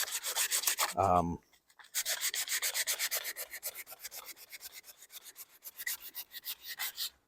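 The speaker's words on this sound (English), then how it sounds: "I just want to get it sanded down so that the poly I put on has a chance to stick" Rhythmic rasping strokes from sanding a wooden coffee table's sprayed, toned finish, steady and close, broken by a brief pause before the back-and-forth resumes.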